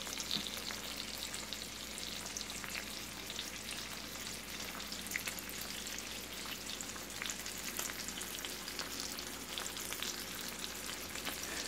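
Chicken breasts, unbreaded, sizzle steadily in a large heavy pan, a dense continuous frying hiss with faint crackles and spatters throughout, close and even, with no talking.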